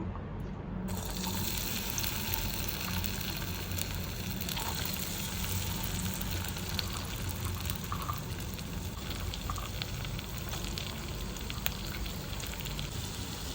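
Chopped vegetables fry in a pan with sautéed dry spices for kadhi pulao, giving a continuous, even sizzle and hiss that carries on steadily from start to finish with no talking.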